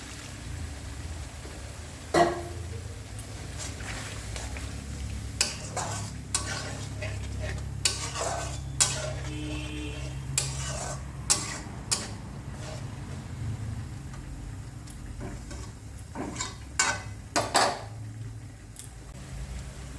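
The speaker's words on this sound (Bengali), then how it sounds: "এখন সামান্য একটু জল দিয়ে দেব।" Water poured into palak paneer in a frying pan, with a steady close sizzle and repeated sharp scrapes and clanks of a utensil stirring against the pan throughout.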